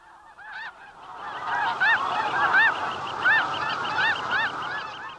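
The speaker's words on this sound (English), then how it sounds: "For 3 weeks, the great flocks come by. Snow geese, white fronts, Canadas, Rosses." A flock of snow geese honking repeatedly overhead over Kindersley, Saskatchewan, a steady chorus of overlapping calls with a few louder, nearer honks standing out.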